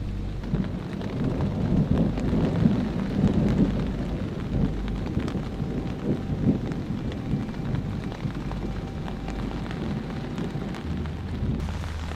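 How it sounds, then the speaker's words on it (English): Rain falls steadily while low thunder rumbles and rolls through a storm in the Appalachian outdoors, with no voices heard. "without a doubt, there's a thunderstorm out there"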